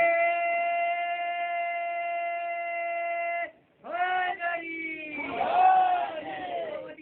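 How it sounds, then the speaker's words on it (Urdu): Crowd at a religious gathering chanting slogans in unison, long sustained vocal tones that break off, then resume in rising, overlapping shouts, loud and close. "نعرے"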